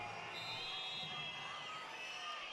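A handball arena crowd at a women's European championship match between Sweden and Croatia roars and whistles in disapproval of a referee's call, a dense, steady wall of shouting and jeering that holds throughout.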